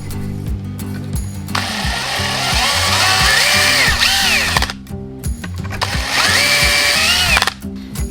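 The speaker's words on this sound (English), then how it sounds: "now I'm just going to drill these out" A power drill whirs in two long bursts, rising and falling in pitch as it bites into material drilling pilot holes for a beetleweight combat robot wedge, with a short pause between runs.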